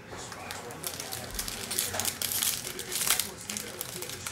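Foil wrapper of a 2021 Mosaic football hobby trading card pack being torn and crinkled open up close, a continuous rustling crackle with brighter rips toward the middle, talk faintly underneath.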